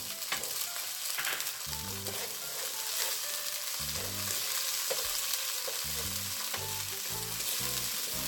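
Onion and tomato frying in a pan for sotanghon guisado, a loud, continuous close sizzle with the scrape and clatter of a utensil stirring, no voices.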